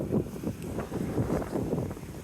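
Outdoor wind on a cloudy Florida day rushes and buffets the microphone in soft, uneven gusts, low and fairly quiet, with no talking.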